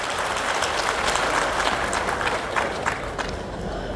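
An audience at an event with a former Nepal government cabinet minister applauds, dense continuous clapping that stays loud and even throughout.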